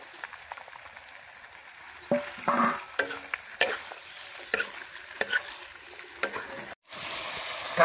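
Duck meat goes into hot oil with onions and fries in a pan, giving a steady soft sizzle broken by scraping stirs and louder bursts as the pieces are turned.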